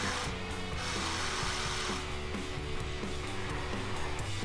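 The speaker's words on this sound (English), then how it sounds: "you get this from the elevator. Hesitation, slipping, and stalling." A 1970 Hot Wheels Tune-Up Tower toy elevator slips and stalls, giving a continuous, close mechanical grinding and whirring with repeated ratcheting clicks and an uneven, hesitating rhythm and no voices.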